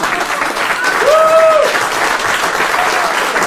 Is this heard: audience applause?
yes